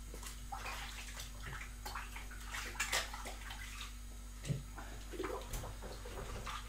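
A mixing bowl being washed under running water, tap flow splashing and sloshing steadily with a few clinks and knocks, fairly quiet and close, no speech.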